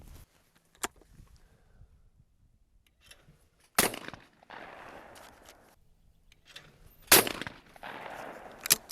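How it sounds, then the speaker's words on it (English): A side-by-side shotgun fires at a crossing clay target, two sharp, loud reports a few seconds apart, each followed by a short echoing tail, with quiet outdoor ambience in between. "here we have a crossing shot, and we're going to attempt to shoot it a couple times"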